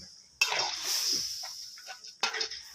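A metal spatula scraping and clinking in a pot as red curry paste is stirred into coconut milk for a Thai water spinach curry with pork belly, two bright bursts of scraping with a short lull between, close and alone.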